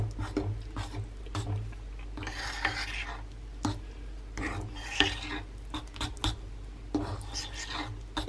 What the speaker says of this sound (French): je vais juste touiller